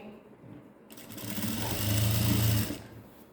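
An electric sewing machine stitches a blouse cup seam, starting after a quiet moment and running in a steady close whirring hum for about two seconds before stopping.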